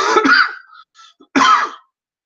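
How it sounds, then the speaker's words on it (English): A woman coughs twice, a strong burst of harsh coughs followed by a short pause and a second loud cough, close to the microphone with no talk. "Hillary coughs."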